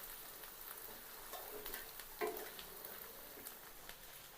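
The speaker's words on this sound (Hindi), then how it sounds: "इसको भैया अच्छे तरीके से मिक्स कर लेंगे" Fish curry masala is mixed in a pan, giving a faint, steady sizzle with soft intermittent scraping and one slightly louder knock midway, quiet and close with no speech.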